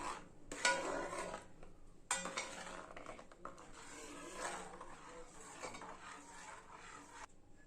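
A spoon stirs cardamom powder into lentil payasam (kadala parippu pradhaman) in a metal pot, making close scraping, clinking strokes that start and stop in a few bursts with brief pauses between them.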